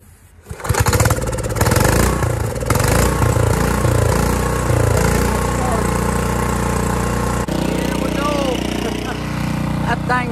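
A small gasoline engine on a plow cranks and catches after a brief moment of quiet, then runs loud and steady close by, its tone shifting slightly before settling near the end.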